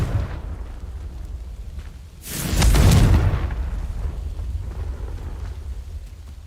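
Confringo fire spell detonating in Hogwarts Legacy: a loud, booming burst swells from near silence, peaks, then rolls off into a long rumbling tail with a low ambient bed beneath.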